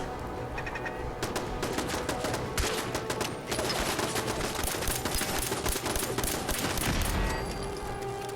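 Continuous rapid gunfire from Fallout 4, dense overlapping shots rattling for the whole stretch with a brief lull midway, loud and close with no talking.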